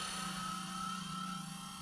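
A Blade 120 S2 fixed-pitch RC helicopter hovers nearby, its small motor and rotor giving a steady, slightly wavering whine with no talk.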